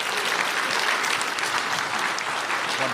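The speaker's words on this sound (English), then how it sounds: "Let's give them a hand of applause." An audience at a live panel event applauds, with steady, dense clapping sustained throughout at an even, fairly loud level.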